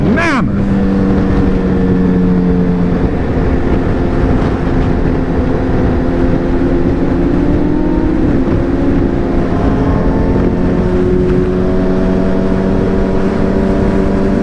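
A group of motorcycles rides at night, engines droning and revving loudly and continuously as bikes pass close by on an overpass.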